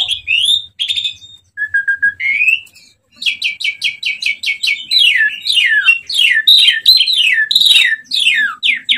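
A Javan pied starling sings loudly and close by, with rapid runs of bright chirps and whistled notes that repeat in quick bursts, broken by a few short pauses.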